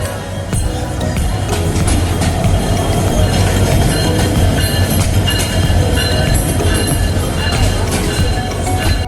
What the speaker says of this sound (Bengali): গলিকাটায় যখন 12টা বাজতেছে তখন আমাদের সাগরিকা ট্রেন মেহের স্টেশনে চলে এসেছে